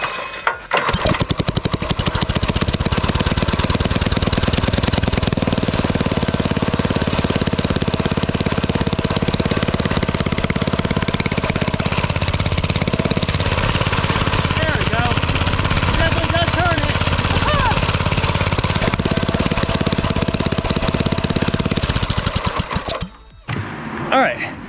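A turbocharged go-kart engine, cold and choked, is cranked and then runs in a loud, steady, rattling drone that continues close up before cutting out near the end.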